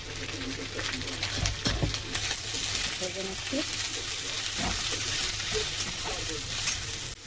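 Spiced cabbage and dal mixture with turmeric, coriander, cumin, chili powder and salt sizzles steadily in a pan, with scraping stir strokes and occasional clinks throughout, close and continuous.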